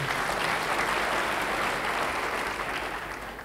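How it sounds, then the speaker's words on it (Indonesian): Church congregation applauding during a sermon, a dense steady wash of clapping that holds loud and then slowly fades toward the end. "Beri tepuk tangan bagi dia"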